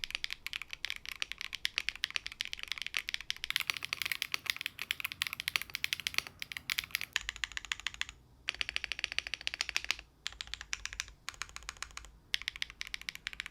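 Typing on a 65% mechanical keyboard, a dense run of soft, quiet clacks in fast irregular bursts with a few brief pauses, heard close with no voice.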